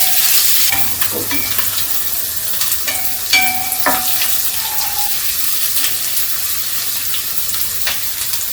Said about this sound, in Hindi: ऐसे हम प्याज डाल दे रहे हैं। तो प्याज को हम हल्का गुलाबी भून लेंगे।